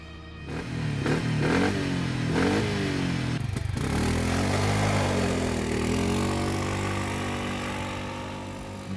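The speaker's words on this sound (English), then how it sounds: "Now let's test 300cc quad." A Loncin 300cc ATV accelerating hard, its engine revving up through a few quick shifts, then holding a loud, steady high-speed drone close by that slowly eases off, with no talking.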